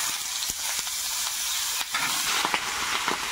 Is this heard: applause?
no